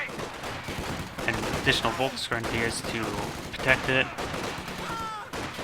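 Gunfire in the World War II strategy game Company of Heroes 2 rattles in repeated bursts beneath a commentator's continuous talk, with sharp shots and mechanical clatter mixed into the battle.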